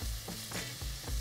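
Onions sautéing in butter for lobster bisque give a soft, continuous sizzle with a few low scraping stirs, close and steady, with no talking.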